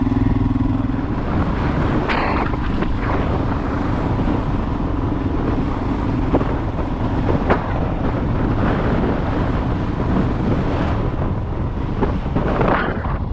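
A lightweight dirt bike's engine runs on a trail, its steady drone heavily buffeted by loud wind noise on the microphone throughout, with no clear separate start-up moment.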